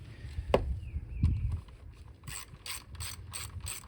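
Hand ratchet tightening the coil pack bolts on a Toyota 4Runner's engine, with a couple of clanks of the tool, then a quick run of crisp, close clicking strokes, no talking.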